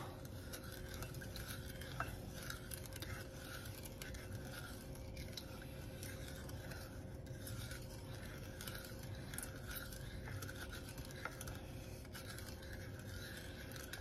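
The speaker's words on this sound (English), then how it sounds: "We're going to stir this up" Steady scraping and swishing of a spoon stirring sugar into Amish friendship bread starter in a non-metal bowl, a continuous close rasping rhythm that runs unbroken with no talk.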